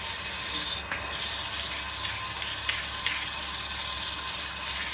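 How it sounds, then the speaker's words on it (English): Steady broadband rubbing hiss of 220-grit sandpaper held against a spinning wooden goblet on a lathe, continuous and close, with a brief dip in the middle and no talk. "we're going to go to sanding."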